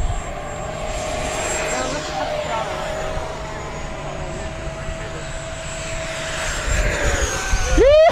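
An E-flite F-16 model jet makes a high-speed pass, its steady electric ducted-fan whine holding loud and close before rising sharply at the end, with people talking over it.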